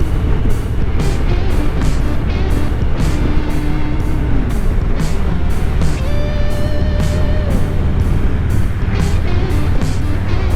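A car rolls along on a drive home in cool 59-degree weather, giving a steady loud road and engine rumble with a repeating thumping rhythm and brief tonal whines over it.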